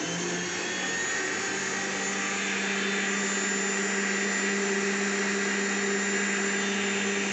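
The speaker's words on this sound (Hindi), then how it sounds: "ये देखिए मशीन चल रही है" Electric churning machine whipping cream into butter for making desi ghee, a steady loud motor whir with a constant hum that runs unbroken throughout, no voices.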